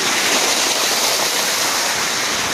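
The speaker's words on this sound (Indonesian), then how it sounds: "air terjun di sini katanya tuh air terjunnya kecil" A small waterfall on a river roars with a steady, dense rush of falling water, loud and close, with no voices.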